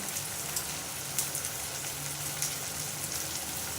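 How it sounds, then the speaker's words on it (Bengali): Snake gourd frying in a pan with turmeric and salt gives off a soft, steady sizzle and crackle, quiet and even throughout, with faint pops and no voices. "একটু লবণ দিয়ে দিলাম এবার ভেজে নেব"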